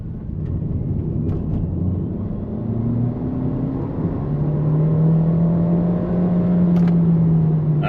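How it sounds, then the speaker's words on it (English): MG ZS Hybrid+ car accelerating from inside the cabin, a smooth rising whir and engine hum building steadily over several seconds under low road rumble, with no talking. "Let's do a bit of acceleration, shall we?"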